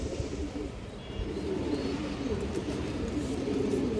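A green-necked male pigeon coos in low, continuous murmuring phrases close by, with faint chirps of other birds and steady background noise.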